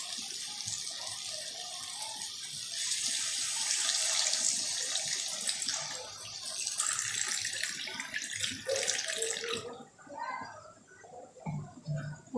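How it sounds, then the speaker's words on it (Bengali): Water poured into a simmering fish masala curry in a pan, a steady splashing pour that swells and then tapers off with sizzling and bubbling, close up and alone. "এবারে আমি জল ঢেলে দেবো।"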